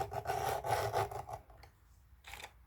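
Hand file rasping along a chainsaw chain's teeth: several strokes in a close, steady rhythm, then a pause and one more short stroke.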